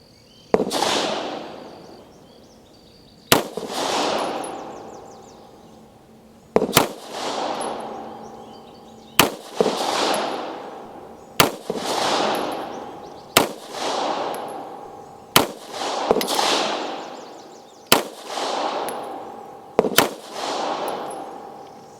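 An Ultra Star 9mm pistol firing 124 grain ammunition at an outdoor gun range, about ten sharp, loud single shots spaced a couple of seconds apart, each followed by a ringing echo decay.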